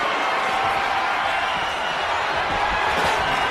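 Wrestling arena crowd in the WWE 2K26 video game during a Money in the Bank ladder match, roaring and cheering as a dense, steady wall of noise with no pauses.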